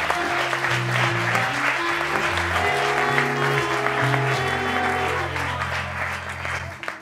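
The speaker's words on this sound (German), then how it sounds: "Einmal Applaus bitte" Audience applause at a science slam in Erfurt, a broad steady clatter of clapping that carries on for several seconds over sustained music playing beneath it.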